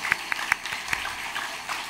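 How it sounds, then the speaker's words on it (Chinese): A church congregation at a Taiwanese-language Presbyterian worship service gives a handful of scattered, separate hand claps, fairly faint in a quiet hall. "拍手一下"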